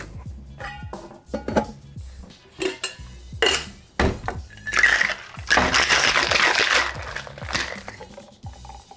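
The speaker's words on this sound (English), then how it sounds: "we're going to add some ice, and we're going to shake this for about 10 to 15 seconds" Cocktail shaker filled with ice being shaken for a cocktail, giving a loud, continuous rattling and clattering of ice against metal that builds over several seconds.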